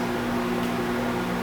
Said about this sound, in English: The microwave's being annoying as hell right now.